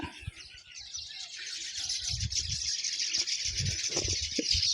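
Sparrows chirping in a coconut tree, a dense bright chatter of many small birds going on throughout, with low thumps and rustles underneath.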